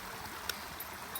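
Shallow stream running over rocks, a soft steady wash of flowing water with faint gurgles, heard close but quiet and unbroken.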